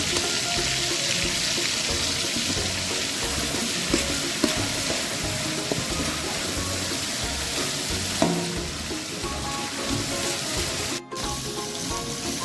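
Fennel seeds sizzle steadily in hot oil in a pan for South Indian coconut rice, with continuous close crackling and periodic scraping stirs throughout, plus a brief sharper clatter near the end.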